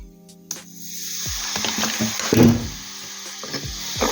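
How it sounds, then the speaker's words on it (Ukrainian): Baking soda fizzes as vinegar is poured over it in a cake batter of condensed milk, butter and egg, a close, steady hiss with small crackles and soft clicks of the bowl, rising briefly mid-way. "Тепер додаємо соду, гасимо її оцтом."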